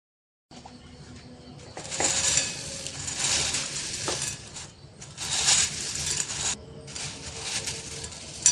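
Bursts of dry rattling and scraping as crisp fried potatoes are tossed with black salt in a metal bowl, clinking in uneven waves.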